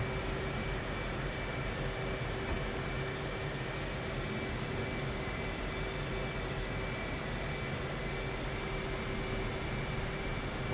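An F/A-18C Hornet jet taxis toward runway 31 in the DCS flight simulator, its engines giving a steady, continuous whine and roar with a constant tone and no talk.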